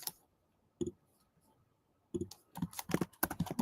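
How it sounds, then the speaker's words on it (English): Loud typing on a computer keyboard, with a few short isolated clicks followed by a faster cluster of key presses, close and dry in a quiet room. "Sorry if you guys are hearing all my typing today."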